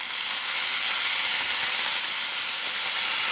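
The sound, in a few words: chipotle-lime chicken sizzling in a pan after flipping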